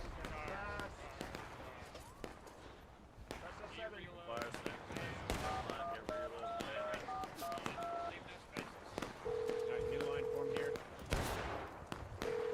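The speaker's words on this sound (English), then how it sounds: "Who's using a damn phone?" A telephone dial-tone melody plays over voice chat during a War of Rights online battle. Short electronic beeps and a longer steady tone sound amid scattered musket fire and talking players.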